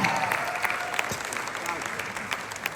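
Audience at a Latin dance event in Australia applauding an organizer, a steady moderately loud patter of clapping with a few sharper claps standing out, a voice faintly audible beneath.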